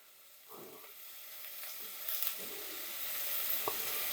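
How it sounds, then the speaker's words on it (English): Onions and gravy ingredients fry in a pan, giving a quiet, steady sizzle with a few soft stirring scrapes and clicks spread through the stretch. "I'm gonna break that up, put it in this pan with the onions"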